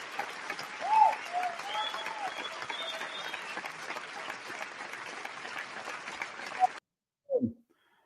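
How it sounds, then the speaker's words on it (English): A round of applause for a guest at the close of a talk: steady, dense clapping from an audience for nearly seven seconds, then stopping abruptly, with a brief voice after a pause. "Let's give her a well-deserved round of applause."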